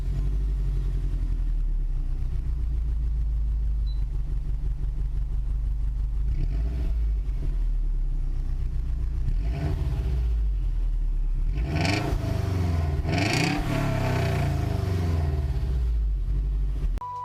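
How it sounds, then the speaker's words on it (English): A completely stock Subaru GC8 WRX STI with its EJ engine rumbles close by in a low, rhythmic, thumping idle, then revs up briefly with a rising, rasping surge before settling again. "the EJ rumble gave off that rhythmic thumping Subaru fanatics love"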